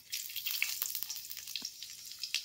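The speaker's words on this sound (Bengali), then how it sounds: "হাফ চামচ মতো মৌরি দিয়ে দিচ্ছি।" Half a spoon of fennel seeds dropped into hot oil in a pan: a bright, crackling sizzle starts almost at once and carries on steadily with small popping bursts, close and loud, with no voices.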